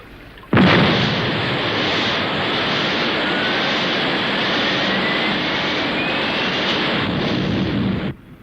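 A cartoon sound effect of a Thunderbird aircraft taking off, a loud, sudden roar of jet engine noise that holds steady for about seven seconds and then cuts off abruptly, with no talking.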